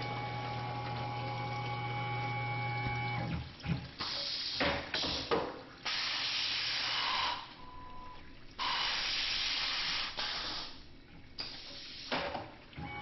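A Tormach PCNC 1100 CNC mill peck drills. A steady machine whine gives way to repeated loud hissing bursts as the tool pecks in and out, with short pauses between them.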